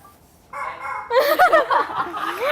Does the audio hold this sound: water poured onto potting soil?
no